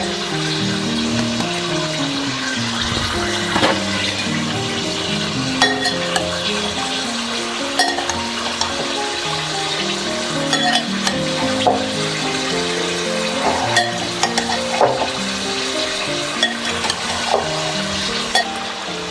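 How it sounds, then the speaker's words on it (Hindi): Cauliflower being stirred into spiced yogurt left from marinating chicken in a pan, a steady sizzle with scraping and clinking of the spoon against the pan throughout, loud and close. "ये हमने जो चिकन वाला दही था मसाले वाला, उसी में हमने अब ये गोभी को मिक्स कर लिए"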